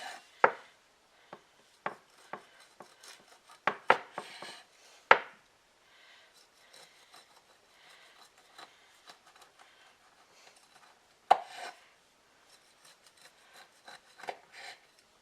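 A knife slices through rolled puff pastry cinnamon rolls on a board, sparse quiet cuts with sharp thuds against the board at irregular intervals, separated by near silence and faint rustling.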